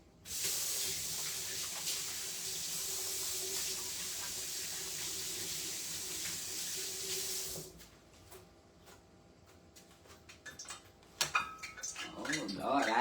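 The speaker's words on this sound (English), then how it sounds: "Let me rinse my hands." Water runs steadily from a kitchen faucet as hands are rinsed, a loud continuous hiss for about seven seconds that then stops, followed by quieter clatter and handling noises.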